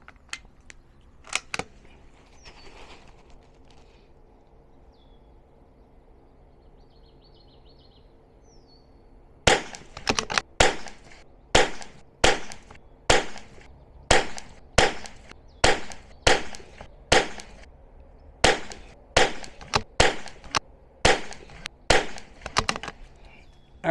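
A .22 pistol firing SK Pistol Match ammunition at an outdoor range: after a quiet stretch with a couple of early pops, a steady string of about fifteen sharp, evenly spaced shots rings out loud and close.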